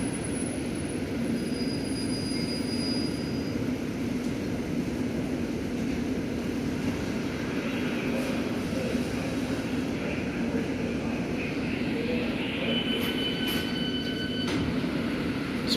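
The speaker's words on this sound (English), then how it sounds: "This train now departing is an all stations Metropolitan line service to Uxbridge." A London Underground Metropolitan line train departs from a station, a steady rumbling roar of wheels and motors rising with high squeals and rattles toward the end; no talk.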